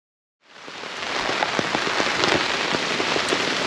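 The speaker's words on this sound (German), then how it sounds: "der Regen hat jetzt ein bisschen nachgelassen" Heavy rain drumming on a tent at a camp during a storm, starting suddenly after a moment of silence and then holding as a dense, steady hiss with individual drops pattering close by.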